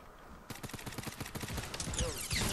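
Rapid sniper rifle shots fired again and again in an online shooter game, a dense, loud burst of cracks that keeps going and builds toward the end, with no voices over it.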